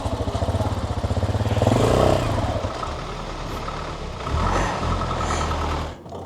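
A Suzuki GS 150 motorcycle engine runs close by, a rhythmic thumping idle that rises briefly then settles, with some talking mixed in and a rev near the end.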